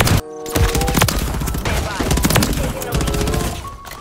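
Call of Duty MW3 war-map combat with shotgun blasts among loud, close gunfire, sharp repeated shots and impacts crowding together after a brief silent gap at the start.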